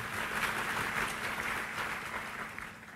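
A church congregation applauds together in a dense, steady wash of clapping that holds evenly across the whole span, moderately loud with no voices over it.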